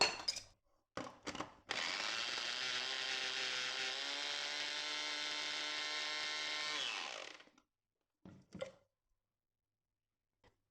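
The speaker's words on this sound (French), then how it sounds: "je vais commencer à mixer cette première partie" A kitchen blender whirs loudly for about five seconds, blending fresh chili peppers into a paste, with its motor pitch sagging as it runs, framed by short clicks and knocks before and after.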